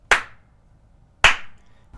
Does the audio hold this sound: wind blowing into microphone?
no